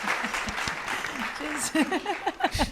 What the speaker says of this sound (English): You guys don't have to stand up and cheer like that.